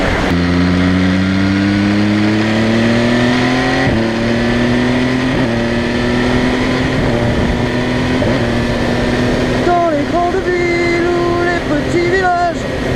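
An MV Agusta Brutale 800 RR motorcycle engine revs hard and climbs in pitch, with quick clipped quickshifter gear changes cutting in one after another, loud and close throughout.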